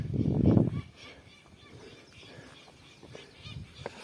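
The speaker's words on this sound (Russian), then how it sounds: "Какая-то птица кричит." A goose-like bird honks near a rocky cliff top, a loud burst early on followed by fainter, scattered calls against wind noise.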